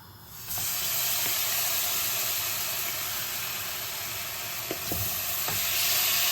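Beef for a Chinese beef and onion stir fry fries in a pan with a loud, steady close sizzle that runs throughout. A few brief scrapes and clinks of a slotted spoon cut through near the end.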